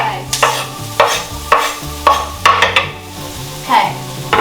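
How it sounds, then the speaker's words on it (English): Chopped onion, shallot and garlic hit hot olive oil in a pan for a pasta sauce, giving a steady sizzle with repeated scraping stirs at a regular rhythm, close and fairly loud with no talking. "It's time to go ahead and put our onion shallot and garlic right in. Oh, sizzle, like always."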